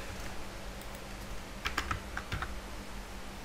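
Keys clatter on a computer keyboard during a data-entry task, a steady low hum underneath with a short burst of quick, sharp clicks in the middle, no voices.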